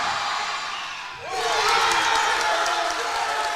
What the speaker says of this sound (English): And the crowd gets loud for Spencer.